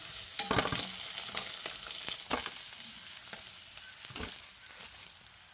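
Pieces of foli (featherback) fish sizzle and crackle in hot oil as they are turned over in a pan. The frying is close and steady, with louder spits of oil throughout and no talking.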